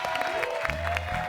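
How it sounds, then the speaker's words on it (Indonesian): Brief burst of audience applause on a game-show set, the clapping steady and fairly close over a low background hum, lasting just over a second. "Tepuk tangan dong buat Audrey"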